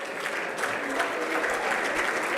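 An audience applauds the third-place poster competition winners at a cybersecurity and AI event. The steady, full clapping of many hands is heard close by.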